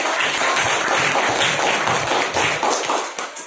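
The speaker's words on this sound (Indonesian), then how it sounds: "beri tepuk tangan dulu buat." A classroom of students applauding during a teaching practice lesson, loud close clapping from a group with individual hand claps and thumps standing out, tapering off at the end.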